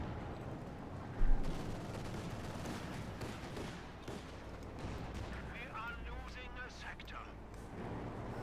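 Machine gun fire and battle noise from the strategy game Company of Heroes 2 rattle on under steady commentary, with one louder thump near the start.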